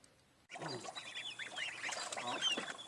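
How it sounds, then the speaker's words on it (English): Ducks and geese on a farm, swimming in water, a busy overlapping chorus of quacks and honks close by that starts abruptly and carries on steadily. "The ducks. Ducks and geese."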